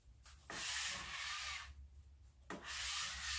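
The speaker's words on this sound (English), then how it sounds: "I actually just used these wire bristles to do the sides" Wire bristle brush scrubbing stripped finish off the sides of a wooden dresser, two long rough rasping strokes close up with a short pause between them, no talking.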